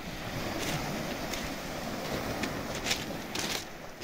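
Steady rushing surf with soft washes of water on a beach by the Genoese fortress in Sudak, Crimea, wind noise across the microphone throughout, no voices.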